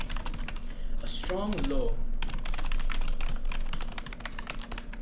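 Rapid typing on a computer keyboard, a dense run of close clicking keystrokes that continues steadily while a person speaks over it.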